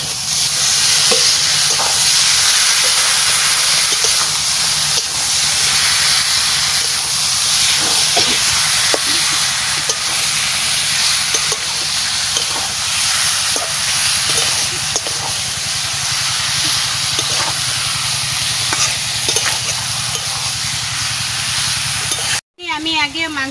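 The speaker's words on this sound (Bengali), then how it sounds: "মশলা আমার ভালো করে ভাজা হয়ে গেছে, এবারে আমি মাংস ঢেলে দিচ্ছি" Duck meat tips into spices fried in oil in a wok and sizzles loudly and continuously, with stirring scrapes throughout and a brief cut near the end.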